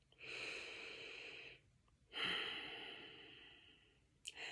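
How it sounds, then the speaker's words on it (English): Two long, slow breaths during an EFT tapping session, one deep inhale and exhale after another with a short pause between, close and clear with no talking. "And then we're going to remeasure our breath."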